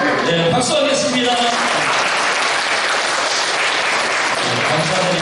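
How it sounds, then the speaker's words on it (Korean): Loud, dense clapping from a congregation at a joint worship service of the Incheon police Christian fellowship, with a voice briefly heard at the start before the applause carries on steadily to the end. "박수하겠습니다"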